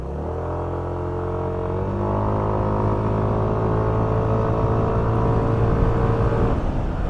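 A Yamaha NMAX scooter accelerates along a short stretch of city road, its engine drone rising steadily in pitch, easing briefly near two seconds, then climbing again before backing off at the end, close and loud.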